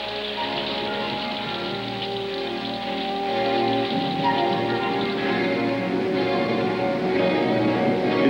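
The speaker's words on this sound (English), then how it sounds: "Rain falls." Steady rain pours down over the Grand Canyon, a dense, even hiss of drops striking surfaces that swells slightly louder partway through, with no voices.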